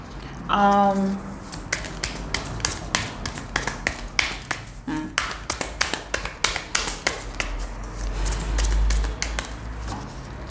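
Tarot cards are shuffled by hand in quick, crisp riffling and tapping strokes, a dense run of close, sharp snaps lasting several seconds.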